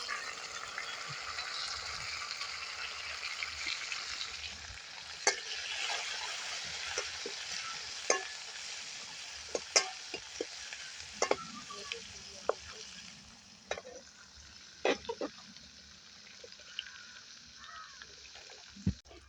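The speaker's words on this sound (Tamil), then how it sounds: "உடனே நான் வெட்டி வச்சிருக்கிற வெங்காயத்தை சேர்க்கிறேன் வெங்காயம் நல்லா பொரிஞ்சு வரட்டும்" Chopped onions fry in oil with fennel seeds in a pan, a steady broadband sizzle with scattered sharp crackles and spatter pops, close and continuous for the whole stretch, softening slightly toward the end.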